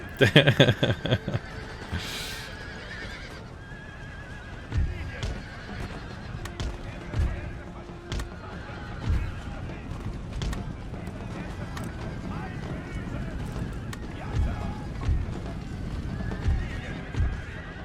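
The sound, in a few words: horses neighing and hooves in Empire: Total War video game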